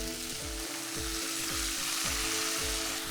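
Fenugreek leaves sauté in a pan with ground spice paste, asafoetida and turmeric, giving a loud, continuous frying sizzle broken by rhythmic stirring scrapes roughly every half second.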